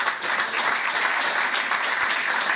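Dense, steady applause from a full audience greeting the Nicaraguan ambassador at a Latin American forum on Augusto César Sandino, continuous and even throughout with no voices above it.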